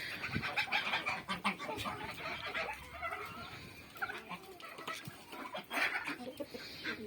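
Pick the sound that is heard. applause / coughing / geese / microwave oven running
geese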